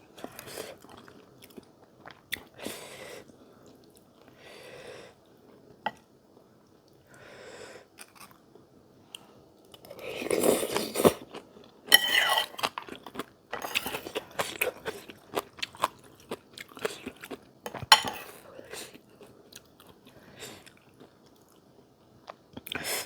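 Close, quiet chewing and slurping of Thai boat noodles in a rich broth, with repeated soft crunchy bites and wet mouth sounds spread irregularly over a long stretch, no talking.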